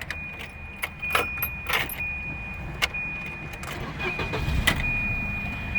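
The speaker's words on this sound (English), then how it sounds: "And you can see it does start up flawless." Keys jingle and clicks sound up close, then a 1990 Volvo 240 DL engine cranks and settles into a low running rumble, with a faint steady chime throughout.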